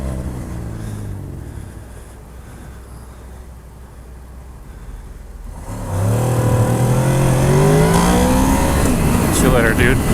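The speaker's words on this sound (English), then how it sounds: "Oh, look at you in your little Honda Civic." A Honda Civic accelerates past, its engine note sweeping up loud and close after a quieter stretch of road noise, with someone talking over it.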